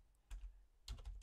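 Quiet keystrokes on a computer keyboard, a few soft clustered taps in quick succession close to the microphone.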